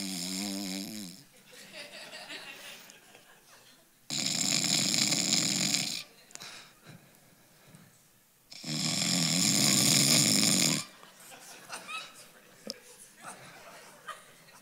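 A man imitates snoring with his voice, giving two long, loud, rasping snore sounds separated by quieter breathy chuckles and murmurs, close to the microphone.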